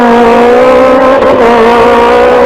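A rally car on the 1994 Rallye Grasse Alpin holds a steady, loud engine drone as it takes a turn, with the note barely changing, and no one talks.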